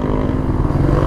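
Suzuki GSX-S150 motorcycle engine running steadily up close, a loud continuous low rumble with no talk over it.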